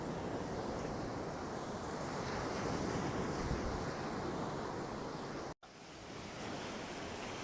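Ocean waves wash steadily onto a beach with wind buffeting the microphone, a constant broad roar with gentle swells and a brief dropout near the end; no voices.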